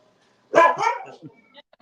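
A husky lets out a single loud, close bark that trails into a shorter yip, followed by a faint whimper in an otherwise quiet room.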